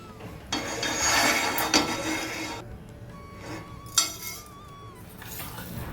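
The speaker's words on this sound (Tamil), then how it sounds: "இப்போ வறுக்க வேண்டியதுதான் எல்லாமே ட்ரை ரோஸ்ட் பண்ண வேண்டியதுதான்" Grated ginger and green chillies dry roast in a pan, a soft scraping and stirring with a few metal clinks of a spoon against the pan, close up and without talk.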